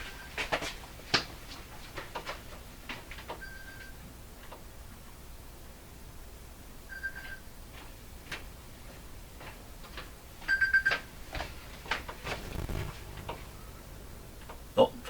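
A phone rings with short electronic tone bursts repeating every few seconds, fairly faint, among scattered ticks and light clatter in a quiet room.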